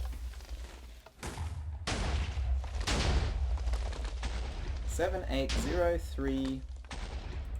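Blasts from explosions in the game Minecraft rumble and crackle across several seconds, loud and continuous, with a few choppy tonal game sounds near the end and people talking over the noise.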